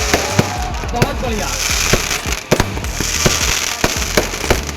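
Aerial fireworks at the Dewa Sharif fair keep up a steady run of booms and crackles, one burst standing out louder midway, while a crowd murmurs and someone speaks a brief remark over the display.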